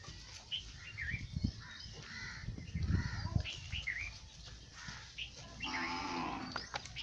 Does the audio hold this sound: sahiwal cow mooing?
yes